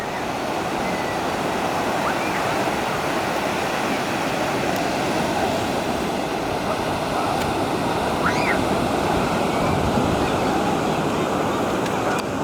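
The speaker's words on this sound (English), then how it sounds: "The sound of the waves crashing upon the shore." Waves crash continuously onto the shore, a full, unbroken roar of surf that stays loud from start to finish.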